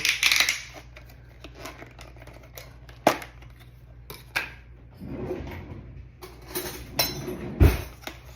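A spoon scrapes and clinks against a plate while pico de gallo is served, giving a series of sharp taps and soft scraping sounds.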